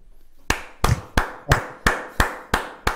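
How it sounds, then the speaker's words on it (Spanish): One person in an empty radio studio claps alone, giving eight sharp, evenly spaced claps at a brisk steady beat after a quiet lead-in. The claps are close and loud, each with a short ringing decay. "lo vamos a presentar con este aplauso compartido porque no hay gente en el estudio"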